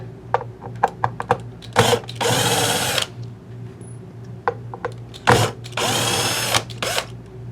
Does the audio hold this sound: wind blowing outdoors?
no